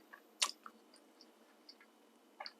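Close chewing of a crunchy fried split pea polourie, a sharp crunchy bite followed by softer, scattered mastication clicks and a second crunch near the end, fairly quiet with no speech.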